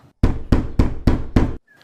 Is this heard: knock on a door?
yes